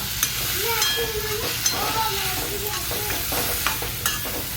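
Food frying in a pan is stirred and mixed, a steady close sizzle with soft scraping and the occasional clink of the spoon running through the whole stretch with no talk.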